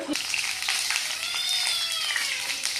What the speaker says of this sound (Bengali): স্পেশাল কড়া ভাজা হচ্ছে